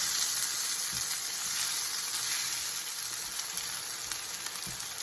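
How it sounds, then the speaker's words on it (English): Steady, bright sizzling of tomatoes frying in a hot pan, continuous and close, with faint occasional stirring clicks and no talking. "I'm going to sprinkle those in. Give them a sizzle."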